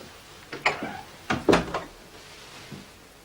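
A door opening in a radio drama as guests arrive, heard as a few short wooden knocks and clunks with a latch-like click, fairly close and alone, with no talk over it.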